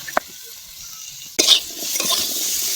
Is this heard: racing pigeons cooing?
no